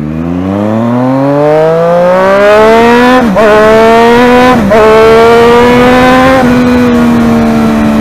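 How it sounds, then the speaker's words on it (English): Triumph Daytona 675 motorcycle riding through heavy city traffic, its loud exhaust note rising steadily as it revs up through gears with brief shift dips, close and continuous. "The exhaust note is so loud that I don't have to honk."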